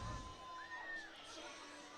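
A high school varsity football crowd, Mount Horeb-Barneveld fans at Beaver Dam, gives off a faint, distant roar of cheering and shouting that holds steady for a couple of seconds.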